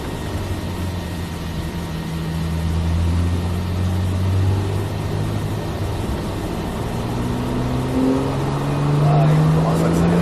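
A Porsche 911 Carrera S engine droning from inside the car on the Nogaro race circuit, its pitch rising and falling through gears, with an instructor talking over it.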